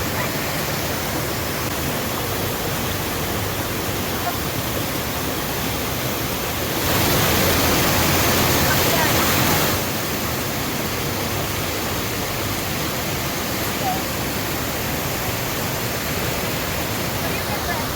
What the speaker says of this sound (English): My body is in the waters of a waterfall in the jungle in Colombia